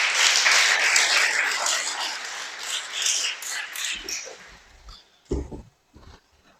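An audience at a sermon-style talk bursts into loud, sustained applause that gradually thins out, with a few last scattered claps trailing off at the end.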